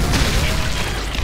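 A weapon firing in the Doom mod Project Brutality: a loud, booming blast with a dense rumbling tail filling the whole short moment.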